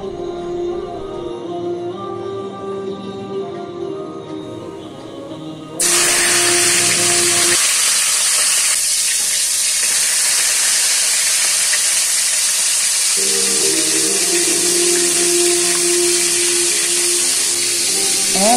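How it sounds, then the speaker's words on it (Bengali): Salted, turmeric-coated shrimp dropped into hot oil in a pan on a stove, setting off a sudden loud, sustained sizzle and spatter that continues steadily, heard alone without talk. "চুলা অন করে তেল গরম করে মাছগুলো ছেড়ে দিলাম।"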